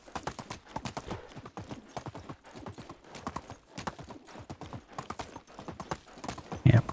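A donkey's hooves clip-clop steadily in Medieval Dynasty, the close, even footfalls running throughout with a louder thump just before the end.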